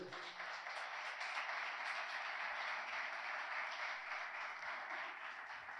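A church congregation applauds during a Spanish-language sermon, a steady, fairly faint wash of clapping that holds evenly for about six seconds without a break.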